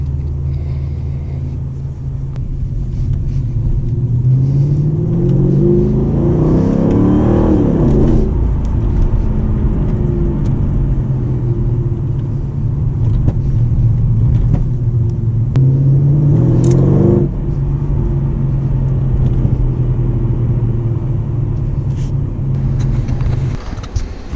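A Mercedes CLS 55 AMG with around 600 horsepower drives in winter doing small drifts. The engine rumbles loudly and steadily, with two rising revs as it accelerates, each climbing in pitch before settling back, close and continuous throughout.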